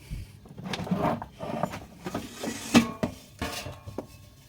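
An air fryer basket is pulled open after frying bitter gourd, giving metallic clatter and sliding clunks with a sharp bump near the middle, close and moderately loud, with no speech.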